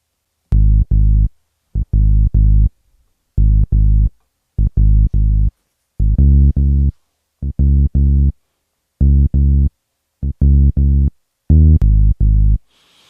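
A deep synth bass line recorded in Beatmaker 3 on an iPad plays alone in short, punchy phrases separated by brief gaps, repeating a steady riff with clean, loud notes.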